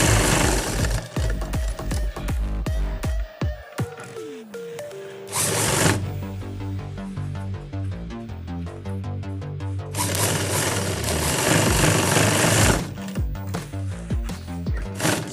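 A sewing machine stitches the back pocket of a pair of trousers in a tailoring workshop, running in repeated bursts of rapid mechanical needle chatter with brief pauses between seams, close and fairly loud.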